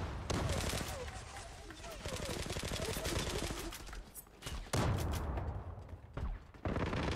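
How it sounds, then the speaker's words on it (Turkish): Rapid gunfire from precise shots in the online shooter Zula crackles in dense bursts, loud and close, broken by a couple of brief pauses. "Al bir nokta atış daha geliyor bak."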